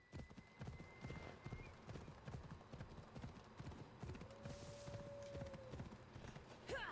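Horse hooves gallop in a steady, driving clip-clop rhythm while riding in Assassin's Creed Odyssey, loud and continuous with a brief whinny-like tone and game ambience layered over the pounding steps.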